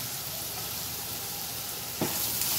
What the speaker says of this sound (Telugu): వేగిన తర్వాత ఈ కప్పు క్యారెట్ తురుమంతా వేసేసుకోండి.